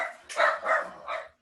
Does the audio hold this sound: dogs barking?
yes